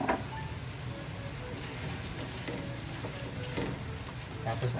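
Chicken simmering with tomatoes in a pan for kinamatisang manok is stirred, a steady sizzle with scraping strokes and light clinks of the spoon against the pan, continuing unbroken throughout.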